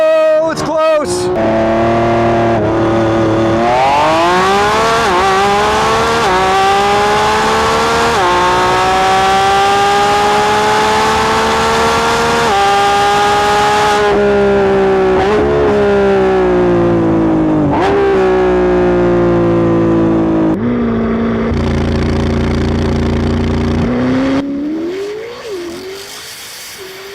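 A Lamborghini Revuelto and a Corvette ZR1 race side by side, engines revving loudly with rising and falling pitch sweeps as they accelerate through gear changes, fading out at the end.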